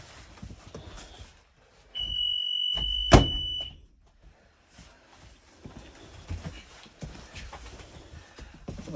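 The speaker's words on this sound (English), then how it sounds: "Make sure those alarms will come on." School bus emergency exit alarm sounding once for about two seconds, a steady high electronic tone with a sharp clunk in the middle, preceded and followed by quiet room noise.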